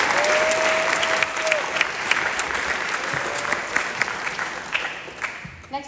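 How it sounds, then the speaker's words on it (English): Audience applause fills a school band concert hall, a steady wash of many hands clapping close and loud, with a brief whistle-like tone early on and the clapping thinning out near the end. "If we could give them a round of applause, that's really good."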